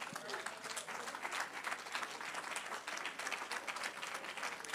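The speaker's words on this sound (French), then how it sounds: "Vous pouvez l'applaudir également." An audience at a baptism celebration applauds in a steady, even patter of many hands, fairly quiet and somewhat distant, with no voices standing out.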